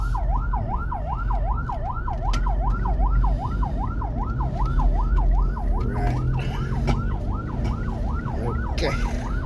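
An ambulance siren wails in Cebu City traffic, a loud, close, rapid up-and-down yelp that repeats steadily over rumbling engines and street noise, with a brief spoken word.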